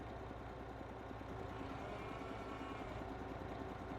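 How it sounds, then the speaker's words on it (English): A truck's air brake compressor kicks in over the idling engine, giving a faint, steady, rapid tapping rhythm beneath the continuous low engine drone. "That's like a little air compressor kicking in, giving me my air back to my brakes."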